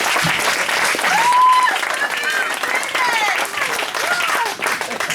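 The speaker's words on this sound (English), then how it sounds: "give him a clap" Wedding guests burst into loud, sustained applause for the groom's mate, a dense wash of clapping with cheers and whoops rising over it, voices calling out throughout.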